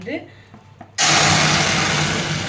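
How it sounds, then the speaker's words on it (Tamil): A mixer grinder jar switches on abruptly and roars steadily as it grinds mango into a fine paste, loud and close after a quiet moment. "இப்போது இது நல்லா ஆற விட்டுட்டு மிக்ஸி ஜாரில் அரைச்சி எடுத்துக்கலாங்க"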